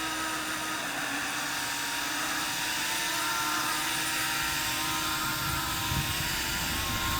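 A drone fitted with MIT toroidal propellers whines in flight with a constant, dense buzzing drone, loud and steady throughout as it throttles up, with no voices.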